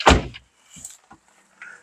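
A Toyota Rush car door shuts with one loud, close thump, followed by a few softer clicks and rustles as someone settles into the seat.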